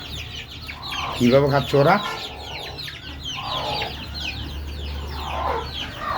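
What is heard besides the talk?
pet chickens clucking while eating jackfruit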